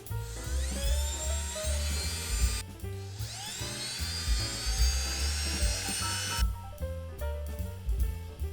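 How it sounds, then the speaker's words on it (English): An electric drill bores a hole between the ties of an N scale narrow gauge model railway layout, a high whining motor that rises and falls in pitch in bursts, close and loud with a low hum underneath. "we're going to drill a hole on between some ties here on either side"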